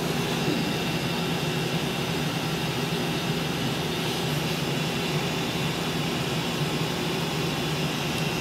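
An XTool M1 laser engraver runs with a steady, continuous mechanical whir and fan-like hiss, close and unbroken from start to finish, with no voices.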